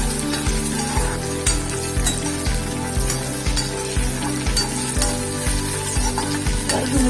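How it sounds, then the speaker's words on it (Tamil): Spices for tamarind rice roast in a dry pan, a dense crackle with a regular, rhythmic clatter of a spoon scraping and stirring them, close and continuous, with no voices. "நல்லா வறுக்கணும்."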